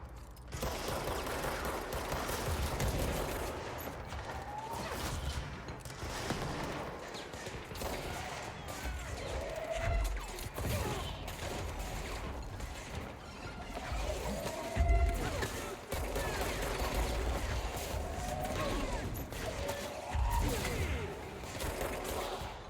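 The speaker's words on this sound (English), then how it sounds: "I hear gunshots." Gunfire in the video game Control, distant muffled shots and bursts buried in a constant rumbling game soundscape, with occasional thuds, lasting throughout.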